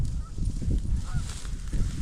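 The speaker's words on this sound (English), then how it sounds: "Oh, there's geese." Geese honk faintly at a distance in cold December fields during a pheasant hunt, giving a few short nasal calls under heavy outdoor wind and handling noise.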